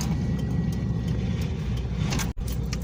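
A 1999 Pontiac Trans Am creeps forward at low speed, its engine holding a steady, deep rumble close by with no rise in revs and a brief dropout near the end.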